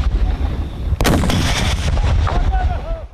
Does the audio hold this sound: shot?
yes